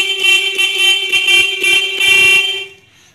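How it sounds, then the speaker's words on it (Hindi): A loud, steady 12-volt motorbike horn, wired through a relay, blares continuously for over two seconds with a sharp, buzzy tone, then cuts off and fades into quiet. "ये बूसर का हॉर्न बहुत ही अच्छा एंड लाउडली बज रहा है"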